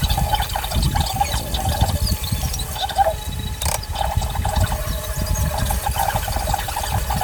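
Water draining and splashing over small fresh fish, round scad and redbelly fusilier, in a kitchen sink, a continuous close gurgling rush with occasional knocks.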